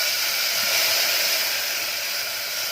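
Vinegar is poured into a pan of frying garlic and coriander, and a loud, steady hiss of sizzling fills the whole short moment with no one speaking.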